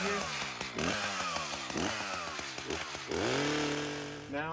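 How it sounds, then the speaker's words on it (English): A chainsaw cutting up felled trees on a rural property while clearing stumps and root balls, the engine revving loudly in repeated bursts and bogging into the wood, with a brief spoken word near the end. "All right, so we got our chainsaw out"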